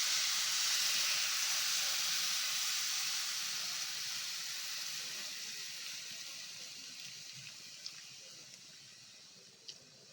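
Milk poured into a pan of frying carrot vermicelli for carrot payasa gives a loud, broad hissing sizzle that slowly fades and softens, with a couple of faint clicks near the end.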